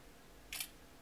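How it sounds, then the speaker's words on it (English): A single brief, crisp shutter click from a Lenovo K3 Note phone camera, close and quiet, against near silence. "if we launch the camera and we take a picture"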